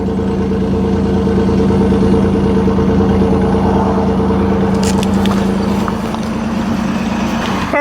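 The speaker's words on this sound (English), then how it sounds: "This truck has a very nice sound." A 1994 Toyota T100 DX pickup truck idles, heard up close by the exhaust, giving a loud, steady low rumble with a smooth, even pulse throughout.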